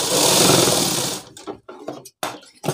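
A sewing machine stitching shirt fabric runs in a steady, fast whir for just over a second, then breaks into a few short, separate bursts.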